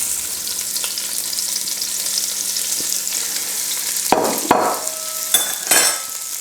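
Three sweet onions sizzle steadily in hot oil in a pan for an oxtail casserole, with a few sharp clatters of a utensil stirring and scraping near the end.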